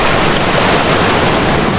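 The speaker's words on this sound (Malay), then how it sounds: "tengok ombak dia" Ocean waves surge and wash onto a beach at Sabang, Aceh, at high tide, a loud continuous roar of surf with wind buffeting the microphone and no talking.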